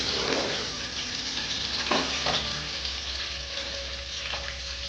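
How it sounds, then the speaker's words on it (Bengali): Chopped garlic hits hot oil in a pan while cooking chicken ghugni, giving a steady close sizzle with a few scraping stirs of a spatula cutting through the frying hiss. "এবার আমি রসুন কুচিটা দিয়ে দিলাম, দিয়ে একটু নেড়ে নেব।"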